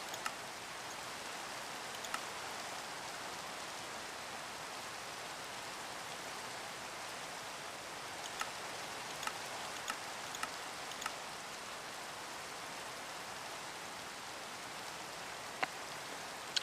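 Steady, soft rainfall in a video game hisses continuously, with occasional faint droplet taps, even and unbroken throughout.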